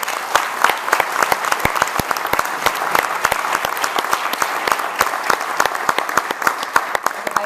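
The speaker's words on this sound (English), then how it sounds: "I want to just applaud all 3 of you" Audience at a district candidates forum applauds three candidates, a dense burst of sharp claps from a room full of people, steady and loud throughout with no one speaking.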